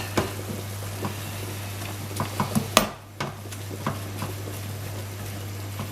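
A spoon stirs garlic through cottage pie filling in a sizzling pan, with light scrapes and taps over a steady frying hiss and a low hum, no talking.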